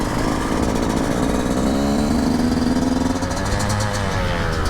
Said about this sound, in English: Dude, my throttle's sticking.